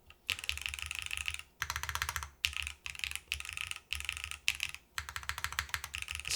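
Typing on a newly built ETAR87 top-mount mechanical keyboard: bursts of quick, crisp keystrokes separated by brief pauses, with deeper thocks from the spacebar, close and clear with no voices.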